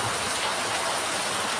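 Torrential rain pours down steadily on an empty street, a dense continuous hiss of drops close by with no pauses and no other sounds.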